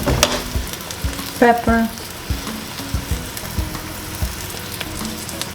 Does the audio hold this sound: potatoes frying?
yes